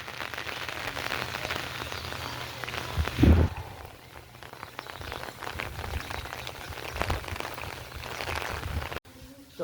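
Heavy rain pours steadily over a village, a dense continuous hiss of drops on surfaces close by, with a brief louder thump partway through and a voice talking over it.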